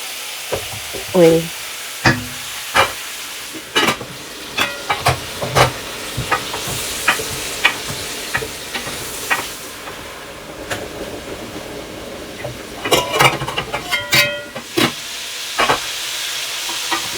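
Pork fat rendering in a kawali for nilagang baboy, crackling and popping in uneven bursts over a low sizzle, with scattered spatula knocks, close and fairly loud.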